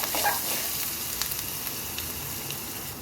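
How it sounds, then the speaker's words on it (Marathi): Ginger-garlic paste with asafoetida frying in a pan, giving a dense, steady sizzle up close with occasional soft stirring scrapes and no talking. "त्यातच आलं लसणाची पेस्ट घातलेली आहे 1 चम्मच. ही व्यवस्थित परतून घ्यायची आहे."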